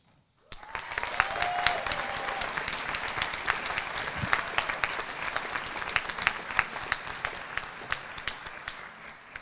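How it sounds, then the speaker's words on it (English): An audience at a medical school commencement ceremony bursts into sustained applause, many hands clapping steadily and loudly for several seconds. "have us all give this amazing group of graduates another round of applause"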